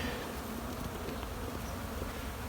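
Honey bees hum in an opened hive with bees on only two frames, a steady close buzzing drone that holds level throughout.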